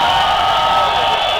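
A large crowd at a Million People March rally in Luneta makes a dense, steady roar of shouting and cheering, loud and continuous without pause.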